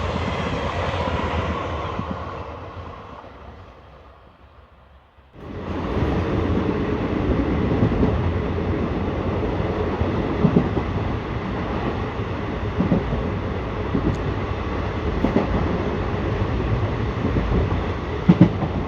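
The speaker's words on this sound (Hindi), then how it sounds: "सामने क्रॉसिंग हो रही है दोस्तों Udaipur city to Bikaner express" The Udaipur City to Bikaner Express train rumbles past close by at a crossing, a steady loud roar of wheels and carriages after a brief lull, with faint rhythmic clatter throughout.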